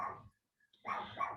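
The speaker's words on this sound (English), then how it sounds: "I knew the dog was going to start barking." A dog barks at a garbage truck outside, two loud bursts separated by a brief quiet gap, fairly close and clear with no talking.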